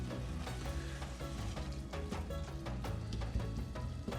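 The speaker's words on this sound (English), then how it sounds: "It's literally just oil and the beef. Just trying to get it nice and browned up." Ground beef browning in oil in a pan, with a steady sizzle and frying crackle held at a constant level and occasional stirring scrapes throughout.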